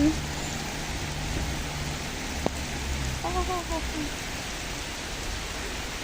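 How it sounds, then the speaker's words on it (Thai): Rain falls steadily in a soft hiss, with a few faint bird chirps and a brief knock partway through; no talking. "เลิกงานมาฝนตกจ้ะ"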